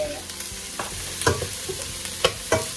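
Garlic and onions sizzle steadily in a frying pan while a utensil scrapes and stirs them, with several sharper knocks and scrapes against the pan standing out over the constant fry.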